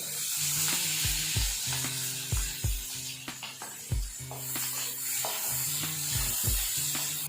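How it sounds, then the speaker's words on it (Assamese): Two chillies and sliced onion frying in a pan, a close, steady sizzle broken by repeated sharp scraping and knocking strokes of a spatula as the mix is stirred. "আৰু মই জলকীয়া দুটা দি দিছোঁ, আৰু মই পিঁয়াজখিনি দি দিছোঁ ইয়াতে। এইখিনি মই 20 ছেকেণ্ড সময় ফ্ৰাই কৰিম।"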